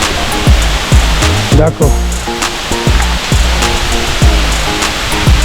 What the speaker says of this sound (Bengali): কত উপর থেকে জল পড়ছে।